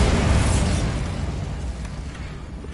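A Bombarda spell explosion in the Hogwarts Legacy video game, a loud, broad blast that rolls and slowly decays over a few seconds.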